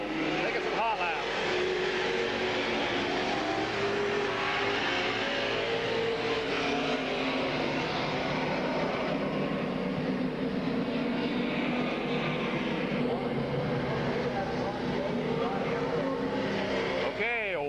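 Race cars take hot laps at Midvale Speedway in 2000, their engines a loud, continuous roar that swells and fades as cars pass. Voices can be heard beneath the noise.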